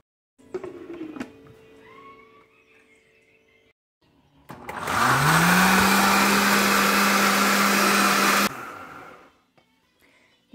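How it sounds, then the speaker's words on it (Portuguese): Kitchen blender whirs loudly for several seconds as it mixes three eggs, butter and milk for a boxed-mix birthday cake batter, starting after a quieter stretch of handling noises and cutting off abruptly. "aqui a gente vai pôr no liquidificador os três ovos, a manteiga e o leite. Vamos colocar tudo para bater"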